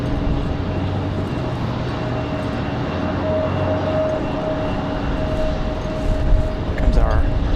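An airliner on a Denver flight at Raleigh-Durham International Airport, its steady engine roar and whine rising slightly toward the end, with a voice talking over it.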